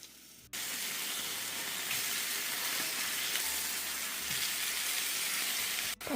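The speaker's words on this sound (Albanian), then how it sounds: "Vazhdojmë i fërgojmë filetot e pulës tek vaji i nxehur për disa minuta në të dy anët" Chicken fillets frying in hot olive oil in a pan, a steady loud sizzle that starts abruptly and crackles continuously for several seconds before briefly cutting off near the end.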